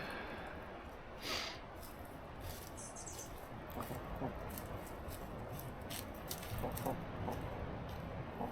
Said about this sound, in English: I don't see many turkeys this deep in the bush.